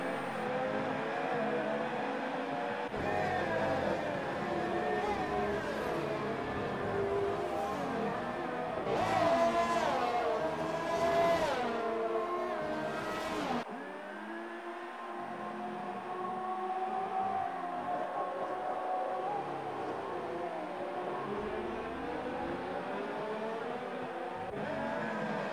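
Formula 1 cars from the F1 2018 racing game roar loudly, engine pitch climbing and dropping as they accelerate and pass, then settle into a quieter, steady drone.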